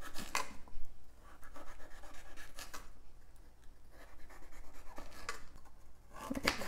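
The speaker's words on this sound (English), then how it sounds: "cut off any bad parts, and just start peeling it" Ginger root is peeled: repeated scraping and rasping strokes come in uneven bursts with brief pauses, close and moderately loud, with no talking.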